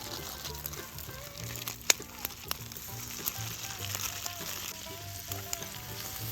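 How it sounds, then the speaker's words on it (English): Onions sizzling in butter in a pan at a winter backpacking camp in the snow, a steady close frying crackle with a few sharp pops and the clink of stirring. "Let's drop some onions in there"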